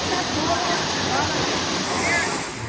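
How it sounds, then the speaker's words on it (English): Water rushes over the water wheel of a sugarcane processing factory in a loud, steady roar like a small waterfall, close by, with voices talking over it. "There's sugarcane processing factory. That is the water wheel. The water came over there."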